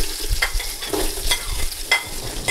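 Onions sizzle in a pot for chicken and rice, with a steady close frying hiss broken by several rhythmic stirring scrapes of a spoon, no talking.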